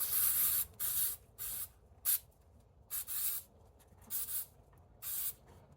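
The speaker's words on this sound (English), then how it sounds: "we're going to give this a little spray over here" Eight or so short aerosol bursts of adhesive remover hiss up close in an irregular rhythm, separated by brief silences.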